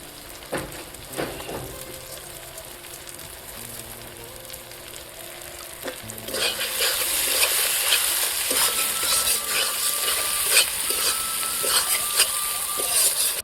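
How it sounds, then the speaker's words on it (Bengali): Rice already fried in ghee goes into a pan of ground spices, turmeric and Kashmiri chilli, for a fish-head muri ghonto. A soft sizzle with scattered stirring scrapes swells into a louder, continuous frying hiss as the rice hits the hot pan. "ঘি দিয়ে ভেজে রাখা চালগুলো এখন আমি দিয়ে দেবো"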